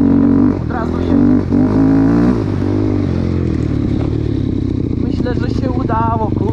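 KTM fuel-injected motorcycle engine idling and revving up close, loud and continuous with clattering mechanical noise; someone talks over it throughout.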